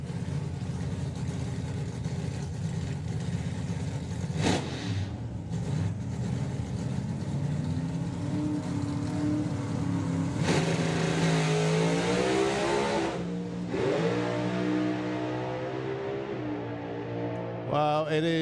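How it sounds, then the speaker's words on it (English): Pro Modified drag racing cars, one turbocharged and one supercharged, rumble and rev at the line before launching hard, loud and continuous, with engine notes rising and fading as they pull away. "So the turbo car of Nick Davis, the blown car, Michelle Turenne."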